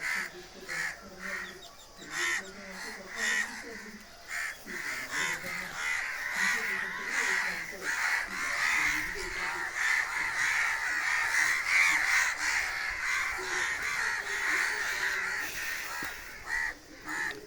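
A large flock of crows caws loudly and continuously, many harsh calls overlapping nearby, with a person's voice briefly heard in between.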